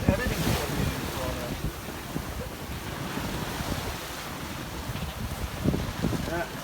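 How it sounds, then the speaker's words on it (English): Wind and waves at sea aboard a sailboat heading toward Key West on a sunny day with strong wind, a steady broadband rush of wind buffeting the microphone over close water wash, with a few faint voices in the background. "it's a nice sail today. Beautiful day. Great wind."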